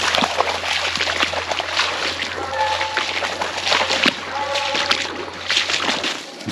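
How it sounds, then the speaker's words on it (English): Feet splashing and sloshing through water outdoors during a storm while coon hunting with dogs in Louisiana, steady wet splatter across the whole stretch, fairly close, with a constant low hum underneath. "Walking in the water"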